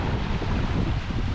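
Waterfalls in the Scottish hills at Devil's Elbow, Glenshee, rush steadily in a continuous, full roar with no voices.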